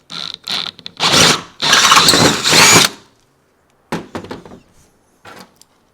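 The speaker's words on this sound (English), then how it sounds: "I feel weird drilling a hole into a perfectly good boat." Several loud bursts of a power drill whirring in short runs as it bores a hole into a boat, followed by quieter brief clicks and thumps, close by.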